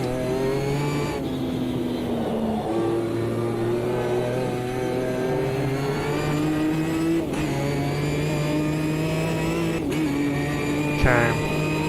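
Ginetta V6 race car engine in the Automobilista 2 sim racing game at Oulton Park, a steady loud near drone with rising and falling pitch through gear changes, briefly dipping near the end.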